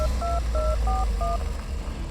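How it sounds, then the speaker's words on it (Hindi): A phone number is punched in as DTMF keypad tones in an audio drama, five or six crisp two-note beeps in a steady rhythm over a low car-engine rumble, no voices. "गाड़ी चलाते हुए अभिनव ने बलराज का नंबर भी डायल कर दिया।"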